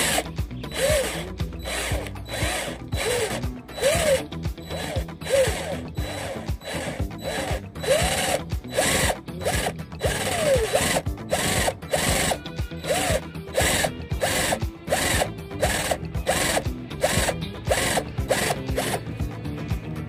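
A screwdriver pressed through a rubber band works at a stripped screw head, giving a close series of rhythmic ratcheting clicks and scraping turns that repeat steadily for the whole stretch.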